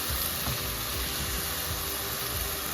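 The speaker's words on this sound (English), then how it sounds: "You gotta be careful when you mix the rice and not damage the rice." Rice toasting in a pan for chicken birria, a steady close sizzle and frying hiss with faint stirring movement.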